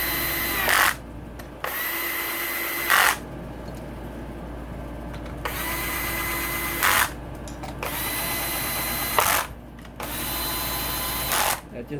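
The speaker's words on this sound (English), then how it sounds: "Use a trusty old Black & Decker. It's got a drag set," A Black & Decker drill with its clutch set runs bolts into a Suzuki RMZ450 motorcycle engine during a rebuild. It whirs in four separate bursts of about two seconds each, with a sharp click at the end of each run and quiet pauses between them.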